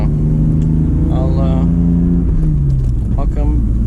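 A BMW E46 with a Megasquirt-managed engine idles steadily at warm-up, a loud close low rumble running throughout while a person talks over it.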